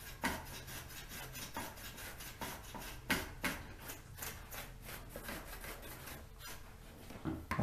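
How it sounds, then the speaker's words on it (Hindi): A brush sweeps dust from the RAM slot of an HP Notebook 15 series laptop, giving quiet, repeated scratchy bristle strokes in an irregular rhythm, close and alone. "आप उसको क्लीन कर लेना बेसिकली ब्रश से।"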